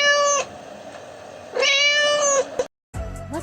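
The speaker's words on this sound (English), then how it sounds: "What animal with the meow sound?" A cat meows twice, close and clear, one short cry then a longer drawn-out meow, followed by a brief pause and the start of another sound.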